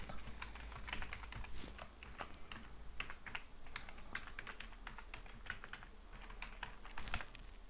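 Steady, quiet typing on a computer keyboard, keys tapping in an uneven, continuous rhythm close by, while a name is entered during scanner setup, with a low background hum and no speech.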